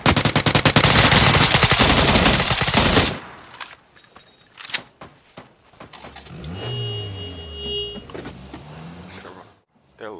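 Dense bursts of automatic gunfire from the video game PUBG blast loudly for the first three seconds, followed by scattered sharp shots and in-game engine and movement noise, with voices talking over it.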